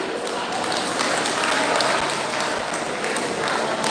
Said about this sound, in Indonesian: Mari kita beri tepukan tangan sekali lagi.